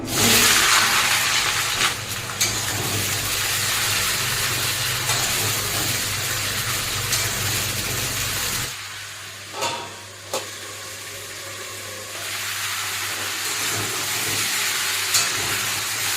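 Vegetables, including Malabar spinach stems, fry in mustard oil with dry red chillies and five-spice in a pan, giving a steady close sizzle with brief stirring scrapes and a quieter stretch partway through.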